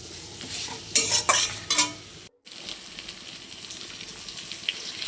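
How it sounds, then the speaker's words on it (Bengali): A spice paste of dried chilli, ginger, garlic and cumin with turmeric sizzles as it is stirred in a pan for a magur catfish and potato curry; a spatula scrapes and clinks over constant frying hiss, briefly cutting out midway. "এরপর আমি মশলাটাকে ভালোভাবে নেড়ে চেড়ে নিচ্ছিলাম।"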